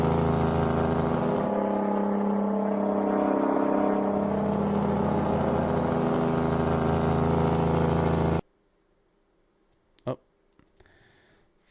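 An American Truck Simulator truck engine brake at full setting rumbles loud and steady for several seconds, then cuts off abruptly, leaving near silence broken by a few short clicks.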